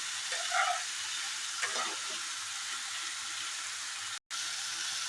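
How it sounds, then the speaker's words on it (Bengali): Chopped onion fries in a pan with no extra oil added while it is stirred and mixed, giving a steady, close hiss of sizzling with a few soft scrapes near the start and a brief silent gap near the end. "এইভাবে এবার নাড়াচাড়া করে নেব, ভালোভাবে মিক্স করে নেব এটাকে।"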